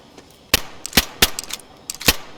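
Sharp gunshot bursts ring out at uneven intervals, five or six loud cracks with fainter metallic clicks between them, gunfire in the video game DayZ with no talking.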